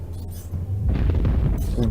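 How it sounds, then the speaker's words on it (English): A heavy explosion in a space combat video game rumbles low and loud for about a second, with a player's voice over the game sounds. "That explosion just blew me like sideways."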